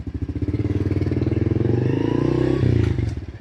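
A 2021 Honda CRF110 kids' dirt bike, a 110cc single, runs close by with a rapid, steady pulsing putter that rises slightly in pitch partway through, loud and unaccompanied by speech.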